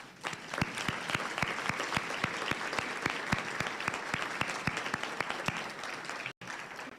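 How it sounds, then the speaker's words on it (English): A large audience at a school district address applauds foundation board members, steady dense clapping that holds at an even level for several seconds, heard from a distance in a big hall. "So if you all would please stand for a round of applause."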